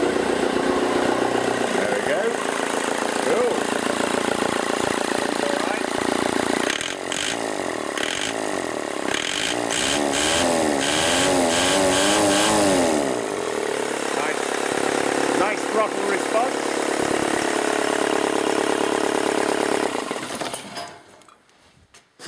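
A Mk 6 Ford Transit with a 2.0 Duratorq mechanical diesel, jump-started, runs loudly close by and is revved repeatedly with sharp throttle blips before cutting off near the end.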